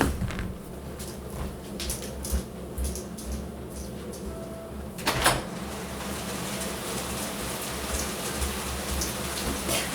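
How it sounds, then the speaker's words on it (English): Heavy rain pours outside an open window in a steady dense hiss of drops, with a brief louder clatter midway and no voices over it. "Rain is super strong."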